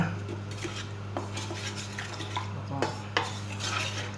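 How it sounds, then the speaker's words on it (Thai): A utensil stirs milk in a fast-heating electric pot for homemade ice cream, giving continuous close scraping and light clinks against the metal over a steady low electrical hum. "ก็ทำการคนไปเรื่อยนะครับ"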